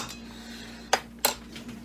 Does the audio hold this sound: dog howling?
no